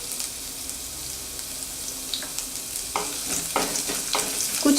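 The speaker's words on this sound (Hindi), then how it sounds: "अब हम इसमें डालेंगे कटी हुई लहसुन," Chopped garlic and ginger frying in oil with cumin seeds in a pan for a yogurt okra curry, a soft steady sizzle with louder crackling bursts and stirring scrapes toward the end.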